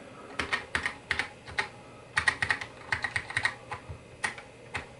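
Keys clack in quick irregular bursts on a repaired MacSense USB keyboard, close up and alone, with short pauses between runs of typing.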